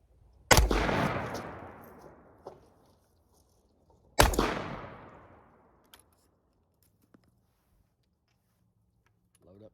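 Two loud, close blasts from a 12 gauge double barrel shotgun firing target loads, a few seconds apart, each with a long booming decay outdoors, followed by faint clicks and handling noises.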